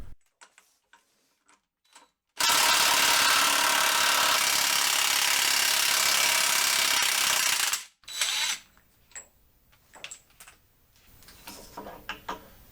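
Rapid ratcheting clicks from a bearing removal tool, then a long loud grinding whir for several seconds as it pulls a bearing on a Dana 60 axle, followed by more scattered clicks and clanks.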